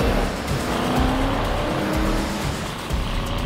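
Car chase in a low-budget horror film, with a car engine roaring and tires squealing in sustained, loud bursts as the vehicles race along.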